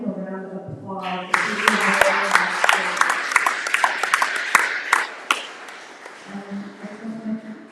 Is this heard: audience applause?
yes